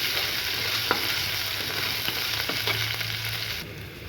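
Chopped ginger, garlic and a green chili frying on very low heat in a pan: a steady close sizzle with occasional soft stirring scrapes, no voices.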